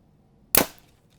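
A Hoyt Ventum Pro 30 compound bow shot once: a single sharp, close snap of the string release that decays quickly in a short hiss, with near silence before and after.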